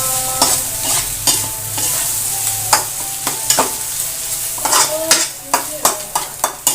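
Sisig pieces sizzle steadily in a home-cooked pan, with a utensil repeatedly scraping and clanking against the metal as they are stirred in an uneven rhythm, close and clear with no talking.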